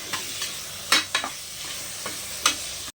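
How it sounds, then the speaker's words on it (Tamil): Four medium tomatoes are sautéed in a pan, with a steady sizzle broken by a few scraping stirs of a utensil, close and alone without talk. "தக்காளி வந்து ஒரு நாலு தக்காளி போட்டு நல்லா வணக்கி விட்ருங்க"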